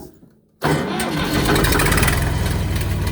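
A John Deere 1010 tractor engine cranks briefly and catches, then settles into a loud, steady idle right up close, the running drone filling the rest of the moment.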